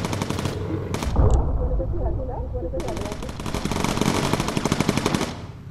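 Rapid bursts of machine gun fire from the Bomber Crew bomber game, loud and close, stop briefly, then return in a long sustained stutter of shots. A faint voice may sit underneath.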